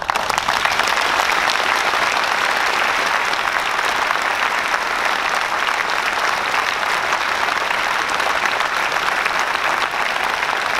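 Audience at a New Year's greetings ceremony given by the mayor of Dijon applauds steadily and loudly throughout, a dense, even wash of clapping with a few cheers mixed in, no speech over it.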